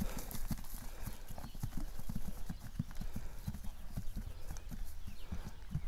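A horse walks slowly back and forth, its hooves clopping in a steady, close, clear rhythm over a low outdoor hiss, with no talking.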